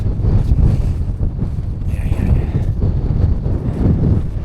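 Loud, blustery wind on Haycock buffets the microphone throughout, a constant low rumble with gusty surges, and no voices.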